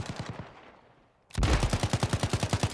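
Automatic gunfire in a first-person shooter video game: a rapid burst fades out, followed after a short gap by a loud, sustained stream of evenly spaced shots.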